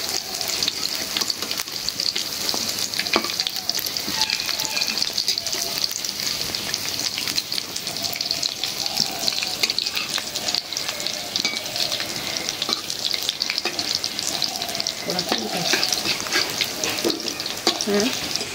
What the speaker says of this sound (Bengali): এখন চুলার জালটা একদম কমায় ভাজতে হইব